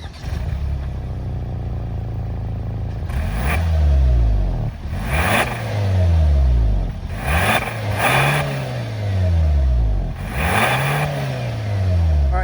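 A 2022 Hyundai Santa Fe Limited 2.5-liter turbo four-cylinder idles, then is revved four or five times, each rev swelling quickly and falling away in a loud, close series.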